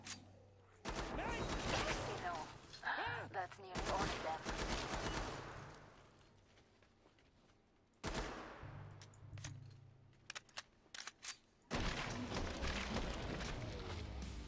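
Gunfire in the video game Killing Floor 2 comes in loud bursts of rapid automatic shots and single cracks, separated by short lulls.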